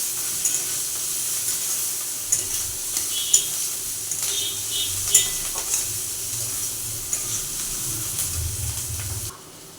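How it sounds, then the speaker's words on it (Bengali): Vegetables sizzle steadily in a pan while being fried to a reddish brown for a grandmother-style pointed gourd paste curry with fish, with occasional stirring clicks over a constant hiss and no talking. "এবার এগুলো কিছুটা লালচে করে ভেজে নেবে"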